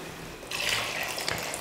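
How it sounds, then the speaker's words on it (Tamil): Water pours into a pot of sambar being cooked on a kitchen stove, a soft splashing trickle that starts suddenly after a quiet moment and keeps running faintly, with a couple of brief splashes near the end. "தண்ணி ஊற்றியாச்சு"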